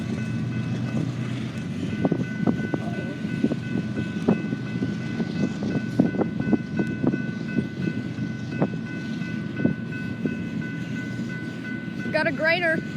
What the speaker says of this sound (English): Got a grainer.